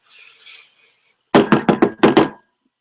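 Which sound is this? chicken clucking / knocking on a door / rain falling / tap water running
knocking on a door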